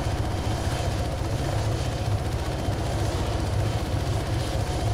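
A helicopter in the video game ARMA 3 flies at speed, its rotor giving a loud, steady, rapid thumping over a constant broad engine roar with no talk.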